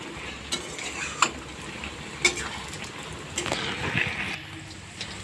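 Grated coconut stirred into a ridge gourd curry in a hot pan, soft sizzling underneath with intermittent scraping strokes and small clinks of the spoon against the pan, close and fairly quiet.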